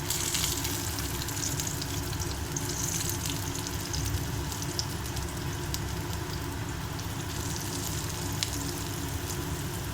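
Raw banana slices fry in oil in a pan, giving a dense, steady sizzle held close throughout, with faint clicks as pieces are turned one by one.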